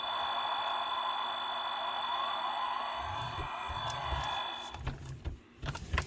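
A Spin Master Batmobile toy from The Batman switches on and plays steady electronic tones, followed by a few low rumbling bursts and small clicks near the end, all heard up close with no one speaking.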